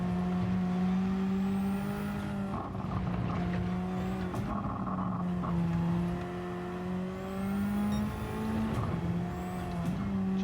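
Race car engine in Gran Turismo 7, droning steadily and close at high revs with pitch rising and dropping through gear changes, joined by brief tire squeal, no talking.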